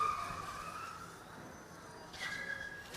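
Car braking on a gymkhana course, a brief tire squeal at the start fading into a distant engine hum, with a second faint squeal toward the end.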